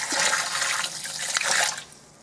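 About 300 ml of water poured into a bread dough mixture for arepa-style bread, a close, splashing, gurgling pour that runs for nearly two seconds before stopping abruptly into quiet.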